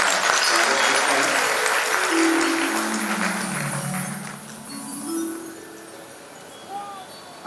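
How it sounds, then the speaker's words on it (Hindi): Loud applause from a crowd welcoming a guest at a Chhattisgarh provincial youth camp at Shantikunj, steady at first and then thinning out, with a hum of voices and a faint clink near the end. "जोरदार तालियों से स्वागत करते हैं।"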